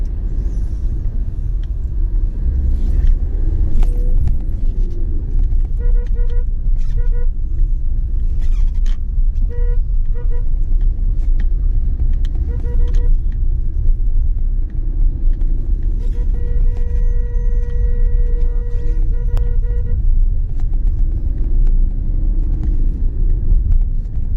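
Road traffic backed up behind a truck accident, a steady close engine rumble of idling and crawling vehicles with occasional horn-like tonal bursts.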